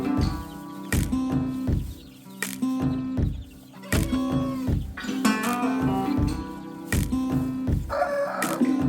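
Chickens with well-grown 28-day-old chicks in a coop, steady clucking and squawks with a rooster crow among them, busy and close throughout with no talking.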